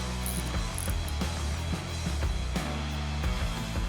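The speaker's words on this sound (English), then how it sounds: "I'll just loosen up this one bolt for the floorboard bracket so I can swing it away from the pipe. And I'm using a 5/16 hex bit with an extension." Ratchet fitted with a 5/16 hex bit on an extension loosens a motorcycle floorboard bracket bolt, giving a close, rapid series of clicking pawl strokes in uneven bursts over a steady background hum.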